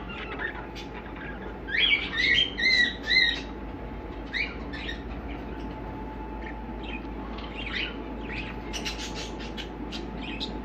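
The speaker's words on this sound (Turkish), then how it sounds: "Çok güzel muhabbet kuşları yer alıyor." Budgerigars chirp and chatter in a pet shop, with a cluster of sharp, bright calls early on and scattered softer twitters over a constant indoor hum.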